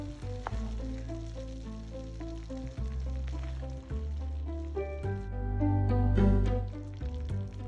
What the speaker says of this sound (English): Sizzling.